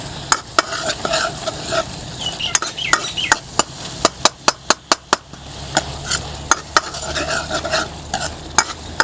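Mutton karahi masala sizzles in a pan while a utensil stirs it, with sharp metallic scrapes and knocks landing in quick irregular bursts over a continuous loud frying hiss.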